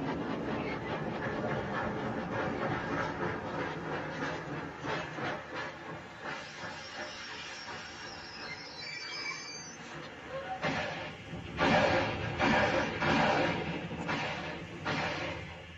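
A train rumbles along the rails with a steady roar and hiss, then rhythmic clacking and louder bursts of wheel noise come through near the end, all close and without talk.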